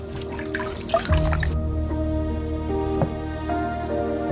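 Water drips and splashes steadily during a Holy Thursday foot-washing reenactment, close by and fairly clear, with a faint sustained tonal backdrop and no talk.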